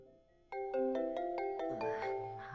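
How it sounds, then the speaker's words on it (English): Cell phone ringtone from the Digimon Survive video game, a bright repeating melodic chime that starts abruptly and keeps ringing in regular pulses, loud and close with no talk over it. "Yeah, it's still ringing."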